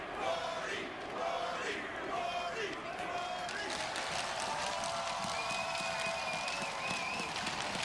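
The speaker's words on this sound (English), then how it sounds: "That wink and that gleam in Gordie's eye as the crowd chants Gordie." A large hockey crowd at the 2013 NHL Winter Classic alumni game, Maple Leafs versus Red Wings, chants "Gordie" in a broad, sustained roar that rises and swells, with a voice talking over it.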